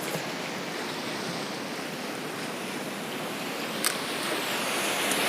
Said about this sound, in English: there's waves right there